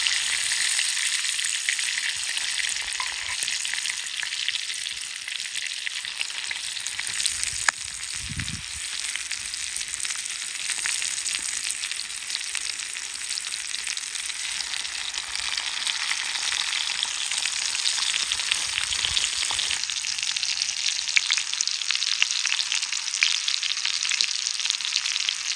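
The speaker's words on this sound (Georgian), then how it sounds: "Თან ცხიმში ჩავაგდე, ჩავყარე უფრო სწორად წითელი წიწაკა და გავამცებ ხორცზე." Meat frying in fat with red pepper tossed in, cooked outdoors on a huge boulder in the mountains: a steady, dense sizzle that holds throughout, close and fairly loud, with no voices.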